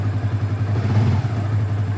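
A Yamaha New Vixion motorcycle engine idles close by with a steady, even low rumble and a faint mechanical clatter, holding a constant level the whole time, with no talking.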